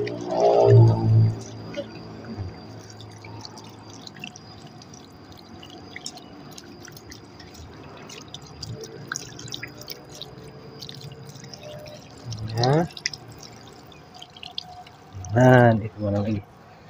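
Water is poured over a pet monitor lizard to rinse it, with short splashing bursts near the start, around the middle and again near the end, between stretches of quiet and some talking.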